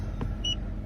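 An EMF detector held close to car electronics near the air conditioning gives one brief, high electronic beep over a low, steady cabin hum.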